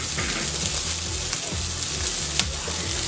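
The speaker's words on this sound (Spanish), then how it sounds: "La idea es, mientras se va cocinando el fideo, van cocinando la panceta, despacito." Pancetta sizzles slowly in a frying pan over very low heat for spaghetti carbonara, giving a steady close crackle with occasional scrapes and stirring sounds, with no voices.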